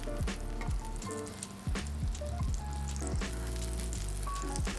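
Bread toasting in a small pool of unsalted butter in a non-stick pan over low heat gives a gentle, steady sizzle broken by soft bumps and clicks, all close by and without speech.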